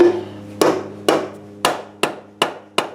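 Seven sharp metallic knocks from a small hammer on a TH400 transmission pump, close and evenly paced, each ringing briefly before the next strike.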